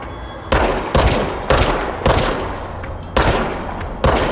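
Six loud, sharp Service Weapon shots in the game Control, fired one at a time roughly every half second to a second, each with a booming body and a decaying tail that overlaps the next.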